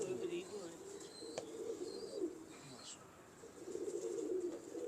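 A soft, silky pigeon coos over a steady background hum, the low murmuring calls continuing throughout at moderate distance alongside faint chirps.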